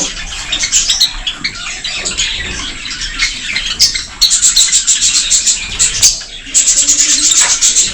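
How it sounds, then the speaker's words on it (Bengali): Parrots and cockatiels in a park aviary in Malda squawk and chirp again and again, their sharp calls overlapping loudly and close by, with no one talking. "এই যে বিভিন্ন প্রজাতির তোতা পাখি, তুর্কি।"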